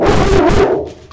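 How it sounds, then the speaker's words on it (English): A dog barks close by, a loud burst of yelping that fades out after about a second. "It's a dog."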